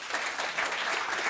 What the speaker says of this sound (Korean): 박수 네. 이펙 넣어주세요.